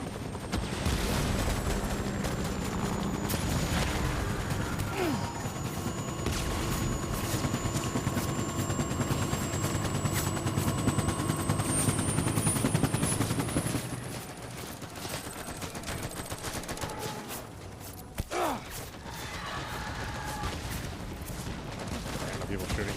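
In the video game Death Stranding, gunmen fire at the player amid a steady droning engine rumble, with scattered shots cracking through the noise and a voice talking at times.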